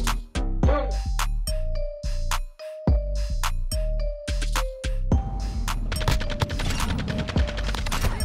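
Full-auto fire from the Lachmann 762 battle rifle in MW2: short rapid bursts at first, then a longer sustained volley, loud and sharp, with metallic pings between bursts.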